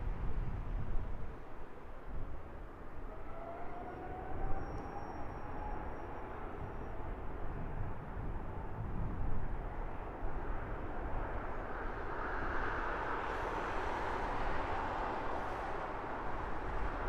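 A jet aircraft flies over Heathrow Airport at sunset, a steady broad engine roar that holds for the whole stretch with no voices.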